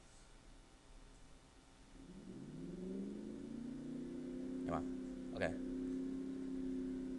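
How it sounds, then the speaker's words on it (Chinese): A Ford Mustang engine revs up from a low idle into a loud, sustained rising roar that holds steady, with two sharp clicks partway through and a brief spoken word at the start. "它那边是有分那个不同的汽车的声音"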